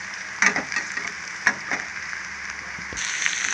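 Ginger garlic paste frying in a hot tempering of oil with soaked chana dal, giving a steady soft sizzle with a few brief clinks and stirring knocks near the pan.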